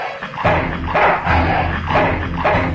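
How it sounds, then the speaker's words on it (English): A dog barks four times in a steady rhythm, loud and close, with no talking over it. "Bad dog."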